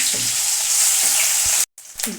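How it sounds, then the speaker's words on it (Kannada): Chopped onion sizzles and fries in oil in a pan for curry tempering, a steady close hiss that runs almost throughout, breaks off briefly near the end, then resumes. "ಸಣ್ಣದೊಂದು ಈರುಳ್ಳಿನ ಹಾಕ್ತೇನೆ"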